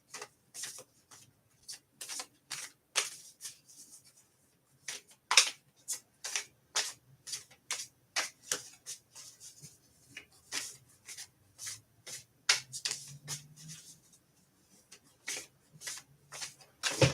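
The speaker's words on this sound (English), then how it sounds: "that's the deck that I've been shuffling" A tarot deck is shuffled by hand in repeated crisp bursts of card riffling and slapping, close and clear, with brief pauses between bursts and no talking.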